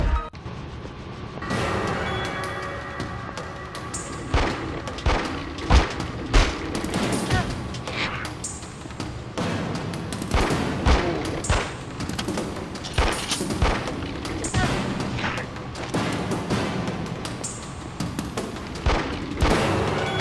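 Gunfire in The X-Files video game pours into an enemy who soaks up the hits, with dense, repeated shots and booms pounding in irregular bursts for the whole stretch.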